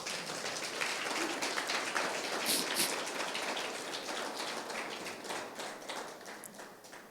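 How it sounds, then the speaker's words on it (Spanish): A church congregation applauds in a steady, dense wash of clapping that lasts throughout. Many hands are heard at once, fairly distant and even in loudness, with no clear talking over it. "Dale un fuerte aplauso al Señor"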